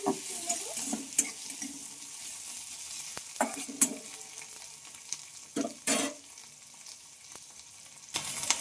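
Tomato, onion and chili frying in a pan for a neem-leaf bharta, a soft sizzle under repeated bursts of stirring and scraping against the pan, with no voices.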